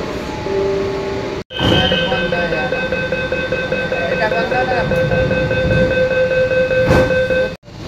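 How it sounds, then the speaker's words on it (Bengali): A Kolkata metro train pulls away on the Dum Dum to Howrah line that runs under the Ganges, with a loud, steady rumble and rising electric motor whine heard from inside the carriage, while people talk over it. "ট্রেন ছেড়ে দিয়েছে।"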